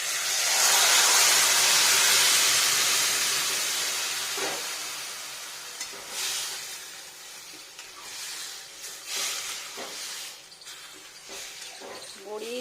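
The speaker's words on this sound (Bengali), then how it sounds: "এবার ভেজটাকে ঢেলে দিই" Mixed vegetables for a Bengali shukto with bori, raw banana, eggplant, potato and beans hit hot oil with a loud burst of hissing sizzle that fades, followed by clatter and stirring as someone talks.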